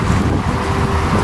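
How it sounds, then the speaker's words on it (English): Steady rushing water from a fountain near a waterfall, a dense continuous wash of noise with no breaks, close and fairly loud, with some wind buffeting the microphone. "So we just got to the fountain"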